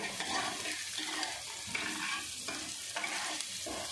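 Onions frying in a pan with green chilies and ginger for a potato and bean vegetable dish, a steady broadband sizzle with periodic stirring scrapes, close and continuous, no talking.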